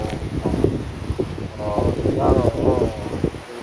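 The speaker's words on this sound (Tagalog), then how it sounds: "Grabe ang hangin dito." Strong wind sweeping through trees outdoors, a rushing, fluctuating roar with microphone buffeting, while a person talks over it.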